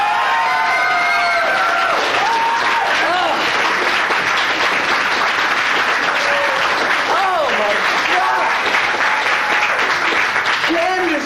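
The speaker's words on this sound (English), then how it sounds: "can I get applause? Can I please get a lot of noise?" A comedy-club audience at a coffee shop improv show claps and cheers loudly, with whoops and shouts rising over dense clapping that runs unbroken throughout.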